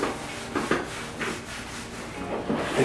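Lysol wipe rubbing over a barber chair headrest in soft, repeated scrubbing strokes, close and fairly quiet, with no voices.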